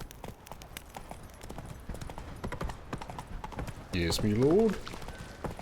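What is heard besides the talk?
horse Roach hooves clopping in video game The Witcher 3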